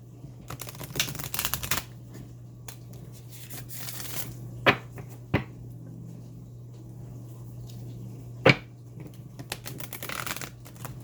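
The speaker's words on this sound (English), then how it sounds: "I'm going to give them a couple shuffles." Tarot cards are shuffled in a few short riffling bursts, with scattered soft clicks and taps in a quiet room.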